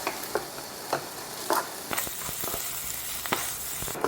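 Leftover gopchang and rice fry in a hot pan and hiss steadily. Regular scraping stir strokes from a spatula cut through the sizzle, up close with no talking.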